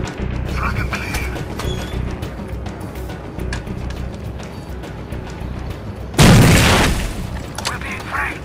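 A frag grenade goes off in Rainbow Six Vegas 2, a single loud, close boom with a broad noisy burst that stands out from the steady rumble of in-game combat and gunfire around it.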